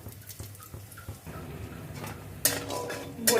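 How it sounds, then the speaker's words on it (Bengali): Bori lentil dumplings fry in oil while a spoon scrapes and stirs them, producing soft clinking strokes, then a sudden louder burst of sizzling and crackle near the end, close by. "বড়িটা লাল করে ভেজে নেবো"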